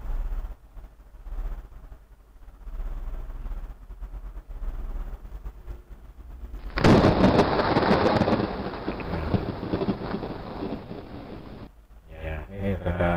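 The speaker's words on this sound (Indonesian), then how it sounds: "ini ada suara petir ya" A low rumble builds, then a loud thunder crash rolls in and lingers for several seconds before cutting off abruptly, with a voice briefly afterward.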